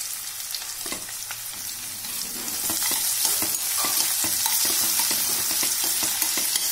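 Ginger, curry leaves and onion sauté in a pan for varagu rice kichadi, a steady close sizzle broken by frequent clicks and scrapes of stirring, growing slightly louder midway.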